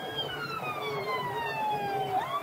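An ambulance siren in the video game Emergency Ambulance Simulator sweeps steadily downward in pitch, then rises again near the end, sounding fairly close and continuous over a low rumbling background.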